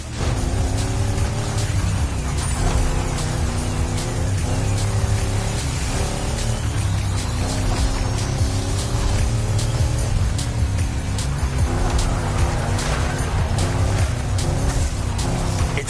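A car in The Crew Motorfest drives hard on a dirt road, its engine droning loud and steady with rising and falling revs and gritty tire noise throughout, no voices.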